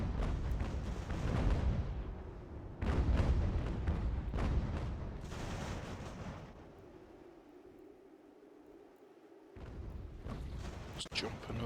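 Cannon fire in an American Revolution strategy game, a series of heavy booming blasts that rumble and overlap, loud and close, followed by a quieter lull and a final burst.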